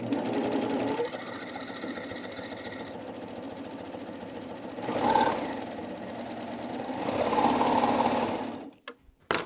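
A sewing machine runs a flatlock seam in steady, whirring mechanical bursts that swell louder midway and again near the end, then stop with a few clicks.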